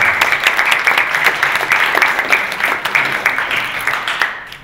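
A round of applause rises from an audience at an awareness and sensitivity training session, brisk uneven clapping that stays loud before tapering off at the very end.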